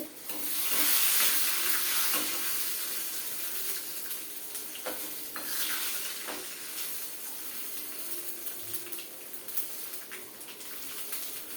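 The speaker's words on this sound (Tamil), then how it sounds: "இப்போ என்னென்னா கடுகு பொரிஞ்சு கொடுத்து மிளகா வத்தலும் ரெடி ஆகிடுச்சு" Mustard seeds splutter and crackle in hot oil while tempering for tomato dal rasam, a busy sizzling hiss with scattered pops, heard close with no talking.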